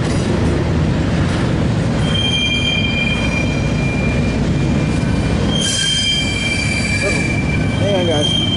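A CSX intermodal freight train rolls past up close, its wheels squealing in sustained high-pitched tones over a steady low rumble and clatter of rail cars, with the squeal rising and shifting near the end.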